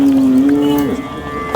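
A cow moos once in a long, loud, close call at a busy cattle market in Sangola, Maharashtra, the drawn-out low tone sliding slightly and fading into market background noise.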